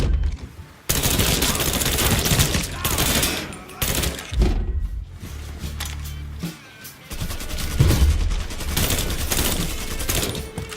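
Gunfire from the video game Mafia 3: dense bursts of rapid shots and fusillades fill the scene, loud and near, with short lulls between volleys and a few brief voices in the mix.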